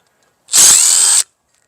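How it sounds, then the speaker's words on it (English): A power drill spins briefly to remove starter bolts from an old Honda motorcycle motor, one loud, close whirring burst under a second long that starts and stops abruptly, with no talking. "Taking off the starter bolts."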